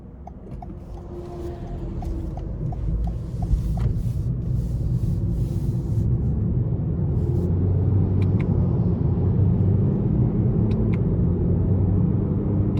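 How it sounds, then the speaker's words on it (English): A 2021 Toyota Corolla Hatchback Special Edition drives on the road, heard from inside the cabin as a steady, loud low engine and tyre rumble that builds slightly and holds, with no talking. "the next thing we're going to do is take this Corolla out on the road and see how it drives"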